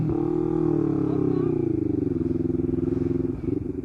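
Motorcycle with an open-pipe exhaust in Cotabato City, its engine held at a loud, steady idle-to-rev rumble with a slight rise near the start and a throbbing pulse through the end, close by.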